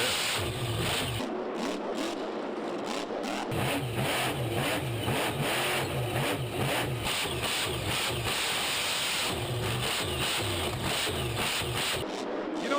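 The Grave Digger monster truck roars through a freestyle run in an indoor stadium at the Metrodome in Minneapolis. Its engine revs hard and loud, rising and falling in repeated surges for several seconds, with hissing crowd ambience around it.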